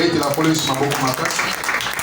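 A church congregation claps and calls out in acclamation, with voices chanting and cheering over steady applause throughout a short burst.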